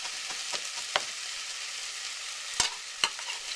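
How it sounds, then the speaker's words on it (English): Garlic cloves sizzling in olive oil in a pan give a steady, close frying hiss, broken by a few sharp pops and clicks. "the final ingredient, a couple cloves of garlic"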